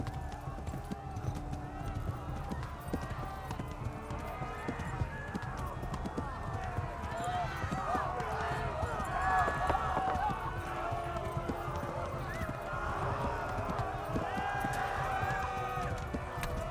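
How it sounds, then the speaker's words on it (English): A horse gallops in the video game Kingdom Come: Deliverance, a continuous drumming of hooves with faint neighs, while a person talks over it. "Run, horse, run."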